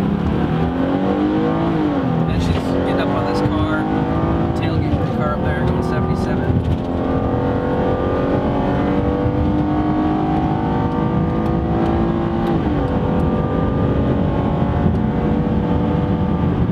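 Car speeding along a freeway during a police pursuit, a loud continuous engine drone with rising and falling pitch as it accelerates, heard up close with passing traffic.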